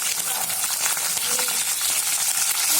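Chopped green chilies and onions frying in hot oil with whole cumin and lemon leaves in a kadai: a loud, dense, continuous crackling sizzle, close by, with faint stirring underneath and no talking.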